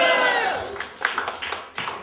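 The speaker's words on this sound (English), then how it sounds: "You can applaud if you want." A live comedy audience reacts, first with a burst of laughter and crowd noise, then with a few scattered, separate claps that thin out toward the end.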